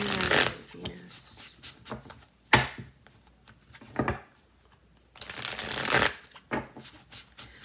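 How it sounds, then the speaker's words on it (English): Tarot cards being shuffled by hand in several separate bursts of riffling and sliding, close and crisp, with quiet pauses between them. "I've got two different decks here. Let's look at the tarot and see what we got."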